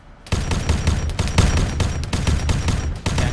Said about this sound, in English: That is an 8-shot grenade launcher